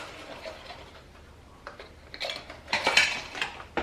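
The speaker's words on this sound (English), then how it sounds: "So I'm gonna get out some lids here." Metal canning jar lids clink and rattle as they are handled and sorted for wide-mouth and regular jars, a few light taps early then a denser cluster of metallic clatter near the end, close by with no talk.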